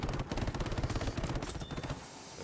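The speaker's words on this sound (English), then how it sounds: "It's not ridiculously effective against infantry, these cannons." Wing-mounted aircraft cannons firing in Battlefield 5, a continuous rapid stream of loud thudding shots over engine roar, steady and close for the whole stretch.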